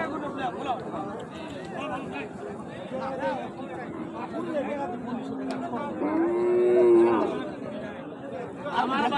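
Cattle at a rural cattle market, with a drawn-out moo rising near the end over constant crowd chatter and nearby voices.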